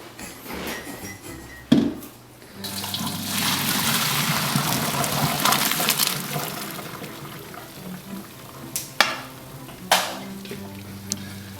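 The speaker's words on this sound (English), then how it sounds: "What you want to do now is pour them out into your colander." Boiled spaghetti and its water are poured from a pot into a colander in a kitchen, a sustained splashing gush lasting a few seconds, followed by quieter clunks and small knocks.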